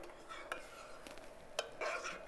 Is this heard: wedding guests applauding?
no